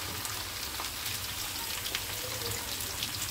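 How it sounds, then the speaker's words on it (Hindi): Okra pieces frying in a pan of hot oil give a steady, close sizzle with fine crackling pops throughout, with no voices. "मैंने सारी भिंडियाँ डाल दी हैं, अब हम इसको भिंडी फ्राई करेंगे"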